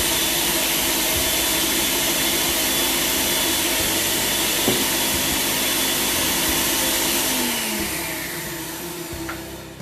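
An electric grinder whirs steadily while grinding a coarse masala of thick chillies, tomato and onion for Peshawari chapli kebabs. The motor drone stays loud and even, then winds down near the end.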